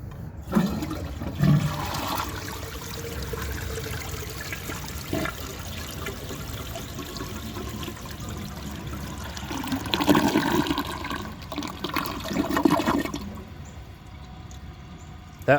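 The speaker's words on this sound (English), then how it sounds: "let's see how it flushes with a dry bowl" A 1973 Eljer Hi-San low tank toilet flushes with a dry bowl, a sustained rush of water lasting most of the clip with gurgling surges near the end, close and fairly loud.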